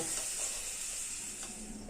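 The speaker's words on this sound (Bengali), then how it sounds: "গ্যাসের ফ্লেমটা হাইতে দিয়ে লাল লাল করে আলুটাকে ভেজে নেব" Potato pieces fry in hot oil over a high gas flame, giving a soft, steady sizzle and hiss at low volume with faint bubbling crackles.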